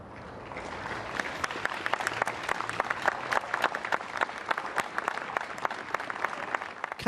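An English village gathers outdoors at 6 pm and applauds in tribute to Captain Sir Tom Moore, who died at 100. Many scattered hand claps spread across the open air, with sharp nearby slaps standing out over a steady, moderately distant patter.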